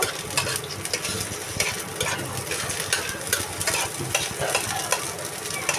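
Vegetables fry in hot oil before greens are added, a steady close sizzle broken by repeated scraping stirs of a spoon in the pan.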